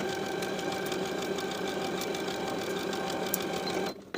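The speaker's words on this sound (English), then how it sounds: "Sew both inner leg seams with a 3/8 inch seam allowance and press the seams open" A sewing machine runs steadily and close up, stitching the inner leg seams of classic summer shorts with a 3/8 inch seam allowance, then stops abruptly near the end.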